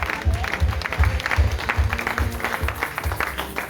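A church congregation applauds and acclaims Jesus, steady rhythmic clapping in even beats with hand-claps and crowd noise filling the room, fairly loud and continuous.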